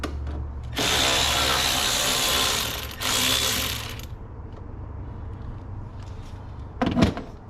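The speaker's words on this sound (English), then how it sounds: "this is an 8mm nut that we're going to take out" Ratchet working an 8mm nut loose on a 2022 BMW X5M Competition during a hitch install, with two loud sustained mechanical bursts followed by quieter clicks and a sharp clatter near the end.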